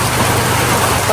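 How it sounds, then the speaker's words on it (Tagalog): Heavy rain falls steadily outside, a dense, unbroken hiss that is loud and close throughout. "Lumakas na naman ang ulan."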